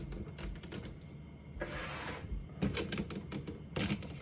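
Typewriter platen on a 1956 Royal HHE desktop typewriter snapping back into its mount, a cluster of close, sharp mechanical clicks and rattles with a brief rushing scrape in the middle, then more clatter.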